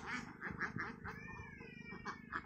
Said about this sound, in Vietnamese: Vịt này cân chơi tầm là khoảng 2 cân rưỡi 3 cân đấy các bạn ạ.